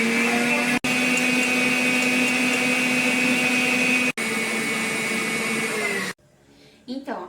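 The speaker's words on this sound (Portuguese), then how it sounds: "agora eu vou bater as minhas claras em neve" Egg whites beaten for a simple sponge cake with an electric mixer, a loud steady whine broken by two brief stops, cutting out near the end to quiet clatter.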